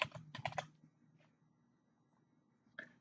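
Typing on a computer keyboard: a quick burst of close key taps, a lone stroke after a pause, then a short final flurry over a quiet room hum.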